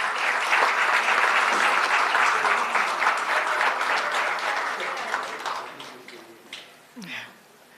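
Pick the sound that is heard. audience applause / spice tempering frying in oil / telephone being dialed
audience applause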